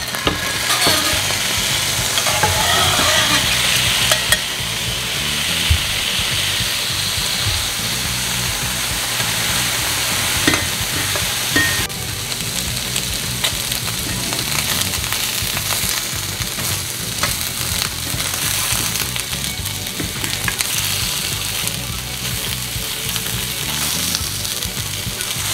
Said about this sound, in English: So this is our salmon, and we're ready to put it in our skillet.